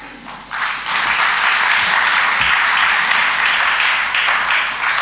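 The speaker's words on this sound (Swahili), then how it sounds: "Ya makofi mengi tena kwa Mheshimiwa Waziri Mkuu anapokuja kuzungumza na sisi." An audience bursts into loud, sustained applause for the Prime Minister at the launch of an electronic visa and residence permit service, rising sharply after a brief quieter start and holding steady throughout.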